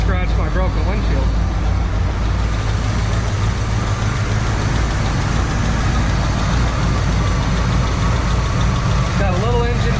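A 1978 Chevy C10 pickup truck engine idling steadily with a low, continuous rumble and a slight engine tick, loud and close, unchanging for the whole stretch.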